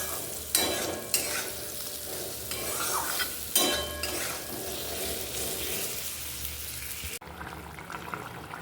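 Chilies stirred and fried in a pan, a continuous close sizzle with a few sharper scraping stir strokes; the frying hiss drops off abruptly near the end, leaving a quieter bubbling background, with no voices.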